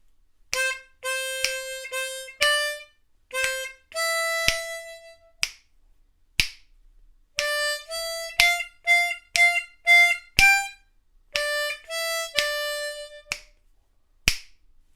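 A harmonica plays the 3rd and 4th lines of the verse in short, bright, separated phrases, with crisp percussive breathy clicks between groups of notes, close and solo for about fifteen seconds.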